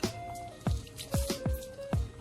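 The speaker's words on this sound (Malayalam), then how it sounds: "നമുക്കൊരു നാരങ്ങ പിഴിഞ്ഞങ്ങോട്ട് ഒഴിക്കാം." A lemon squeezed by hand over half-cooked rice for biryani, giving four or five soft, wet squishes and drips in quick succession, close and fairly quiet.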